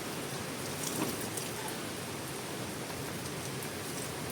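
Rain falling on surfaces in Dinahican, Infanta, as a steady, fairly faint hiss with scattered drops and no voices.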